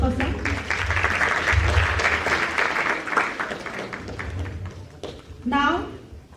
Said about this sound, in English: A big round of applause for sir